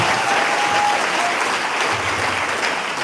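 An audience claps for a church testimony, with loud, dense, sustained applause that holds steady for about three seconds and no voices above it.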